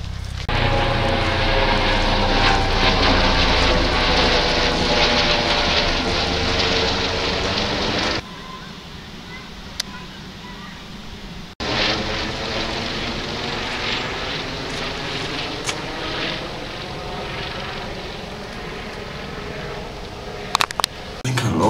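A helicopter rotor drones loudly and continuously, with a pulsing, sweeping quality. It drops away briefly partway through, then returns as a steady overhead roar with a few sharp clicks near the end.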